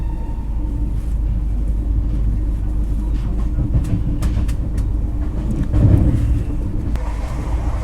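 Rajdhani Express train running at speed, a steady low rumble and rattle of carriages heard from inside, continuous throughout with a brief louder swell near the end, and faint voices in the background.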